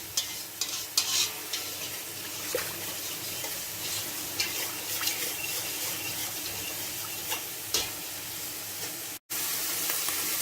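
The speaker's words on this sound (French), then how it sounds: "j'ai ma viande qui finit de dorer" Chunks of beef browning in a pan for a bourguignon, a soft constant sizzle with scattered ticks and pops, moderately quiet, running alone without talk and briefly cutting out near the end.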